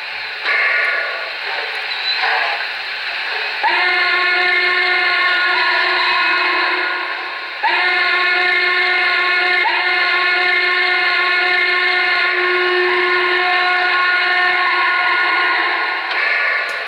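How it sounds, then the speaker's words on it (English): A Broadway Limited Norfolk and Western Class A model locomotive sounds its steam whistle in loud, sustained chime blasts, two long calls with a brief break between, each with a distinct ending. "I will let you hear the different endings for the whistle."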